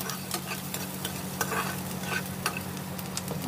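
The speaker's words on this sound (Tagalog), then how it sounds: "Kaya, lagyan na natin yung sibuyas." Chopped onions sizzle in hot olive oil for stir-fried tofu, a steady close frying hiss with scattered crackles and stirring scrapes over a low hum, no voices.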